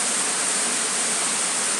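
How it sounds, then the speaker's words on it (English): Waterfall and fountain splashing nearby, a steady, dense wash of falling water that stays loud and even throughout with no voices over it. "I was sitting here by the fountain and the waterfall behind me"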